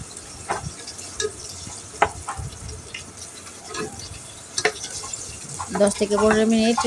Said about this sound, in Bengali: এক পাশ ভাজা হয়ে গেছে, আমি উল্টিয়ে পাল্টিয়ে ভালো করে ভেজে নেব প্রায় 10 থেকে 15 মিনিট